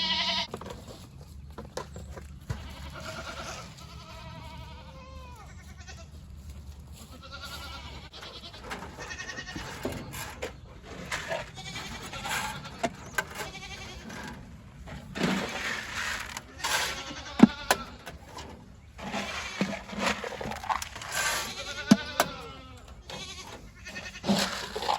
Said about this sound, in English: I don't know if you can hear me over all these goats